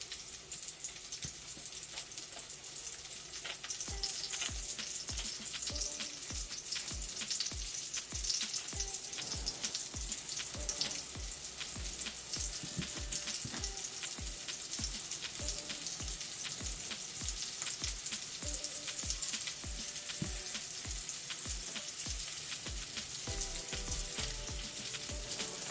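Black bean burger patties fry in a pan, a continuous close sizzle packed with rapid, irregular crackles and pops that runs steadily throughout.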